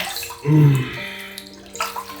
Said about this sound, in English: let's get a little cold water again